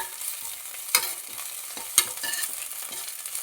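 Curry leaves fry in a pan with a steady crackling sizzle, broken by two sharp stirring scrapes and a few spatula clinks, close and fairly quiet with no talking.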